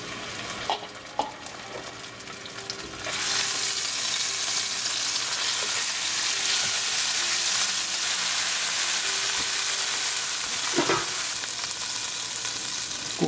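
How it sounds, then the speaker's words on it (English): Ginger garlic paste hits hot olive oil and breaks into a loud, steady sizzle that runs on unbroken, with a few clinks of a utensil stirring the pan. "As the oil start to heat up, I'm going to bring ginger garlic paste."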